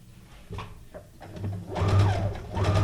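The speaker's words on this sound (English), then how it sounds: "So I'm just going to go around this with a straight stitch." A sewing machine runs a straight stitch around a junk journal paperclip, its motor whirring in short bursts that grow louder and steadier toward the end, with faint handling taps before.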